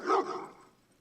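A dog gives a single short, faint bark that fades quickly, heard as playback from a recording, with no one talking.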